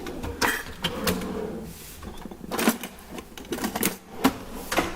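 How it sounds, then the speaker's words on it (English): A whisk rattles quickly against a bowl while ingredients for chicken enchiladas are mixed, producing rapid, uneven clicking and tapping bursts heard up close. "I am going to whisk that together"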